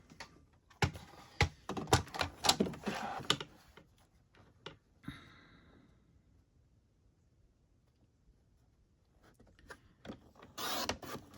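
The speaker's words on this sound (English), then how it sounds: "we'll use the trimmer on this one" Paper trimmer slicing through card stock during a fall craft project: a few quick, sharp scraping strokes up close, then a long quiet stretch before another brief burst of cutting.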